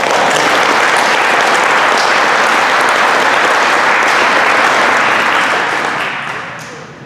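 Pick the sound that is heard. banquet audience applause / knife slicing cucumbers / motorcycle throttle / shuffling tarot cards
banquet audience applause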